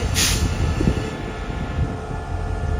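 QSY 5208 locomotive hauls the Thaksinarath special express No. 31 through a curve near Ban Pong station in Thailand, producing a loud, steady low rumble with a short high hiss at the start.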